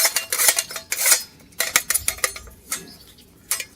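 Metal grate of an Uuni pizza oven pried up with the corner of its metal lid: a run of sharp clanking, scraping metal hits, several close and loud at the start, then sparser clinks and rattles.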